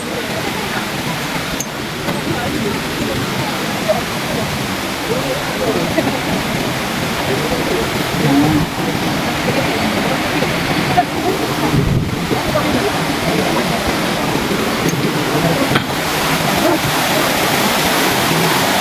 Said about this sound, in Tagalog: Ayan, ganda ng batis.